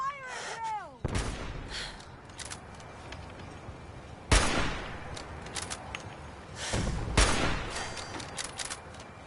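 Gunfire breaks out in a Fallout 4 battle: a few sharp broadband blasts land about three seconds apart amid rough battle noise, following an opening animal-like wail, with no voices.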